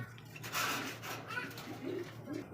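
A pigeon coos softly at a pigeon market stall, with a couple of low, rounded calls near the end over faint background bustle.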